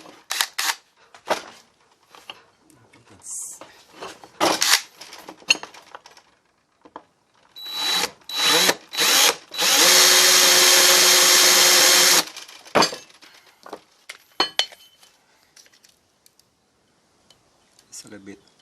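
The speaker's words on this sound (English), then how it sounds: "I'm just gonna drill," A power drill bores holes into a brake caliper bracket for a 1995 Honda Accord, with one long steady whine and several short bursts between clicks and handling noises.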